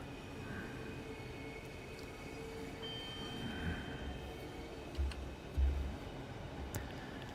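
A Class 395 Javelin train in Train Sim World 2 rolls across a bridge with a steady, quiet rumble of wheels on rails, broken by a couple of soft thuds and light ticking clicks.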